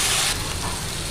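Potatoes frying in a pan for a potato fry, a steady loud sizzle that is harshest in the first third and then settles into a continuous crackling hiss with no talk.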